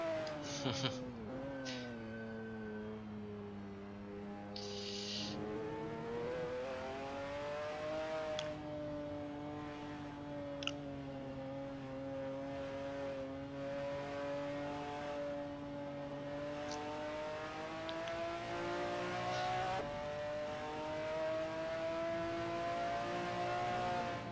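Race car engine from Assetto Corsa in VR, driven with a damaged car during league practice: a steady droning, harmonic-rich engine tone that rises and falls gently with throttle, continuous and close throughout with no talk.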